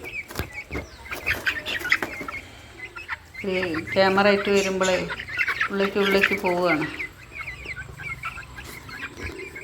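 Fayoumi and Brahma chickens cluck on and off, with a louder burst of calls in the middle, while someone speaks over them.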